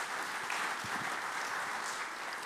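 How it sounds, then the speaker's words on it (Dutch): Steady audience applause filling a lecture hall after a presentation on timber architecture, a dense, even wash of many hands clapping at moderate distance throughout. "Groot applaus."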